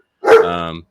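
A dog lets out one loud, close bark that fades into a short whining tail, alone against silence.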